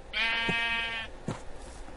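A Minecraft sheep bleats once, a long wavering call, followed by a shorter faint bleat in a quiet background.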